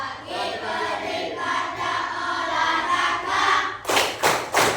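Children chant together in a rhythmic classroom clapping game, their voices sung in unison for a few seconds before several sharp group hand claps land near the end, close and loud.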